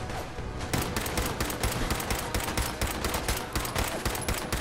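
Dense, rapid gunfire from the video game Fallout 4, a continuous loud fusillade of overlapping shots with a steady rattling rhythm throughout, no talk over it.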